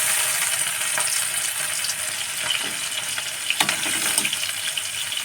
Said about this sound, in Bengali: তেলটা গরম হয়ে গেছে, মাছ কটা দিয়ে দেব।